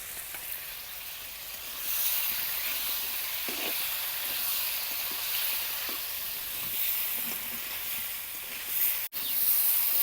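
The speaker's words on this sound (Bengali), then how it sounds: "লঙ্কাটা দিয়ে ভালো করে ভেজে নিলাম।" Dried and green chilli paste sizzles in hot oil in a pan with lightly fried potatoes, salt and turmeric, a steady close frying hiss with brief stirring scrapes and no talk.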